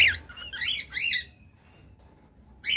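A male cockatiel about one and a half years old gives several shrill rising and falling whistled calls close by, then pauses briefly before calling again.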